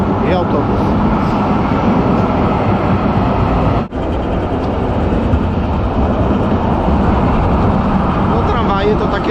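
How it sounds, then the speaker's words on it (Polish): An old-type tram rumbles past on an Oslo street in winter slush, a loud, steady rolling rail noise filling the whole stretch with one brief drop, while a voice talks over it. "O, tutaj tramwaj jeździ, jedzie i autobus."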